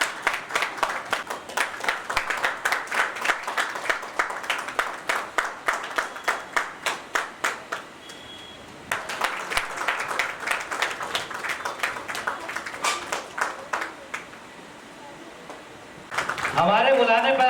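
Audience clapping in steady rhythmic unison, a long run of sharp evenly spaced claps that pauses, resumes, then swells into louder scattered applause at the end, with a voice speaking over it.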